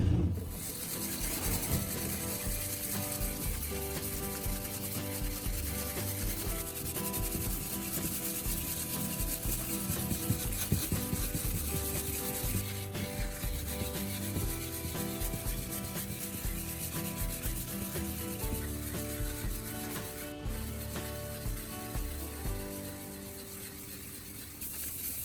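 A foggy headlight is sanded gently in small circles with wet 1,200 grit sandpaper and paste, producing a steady, soft, continuous rubbing rasp that carries on evenly at low volume with no voices.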